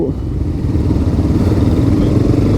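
Motorcycle ridden through Bengaluru city traffic, its mid-pitched engine droning loud and steady with road and wind rumble, no speech.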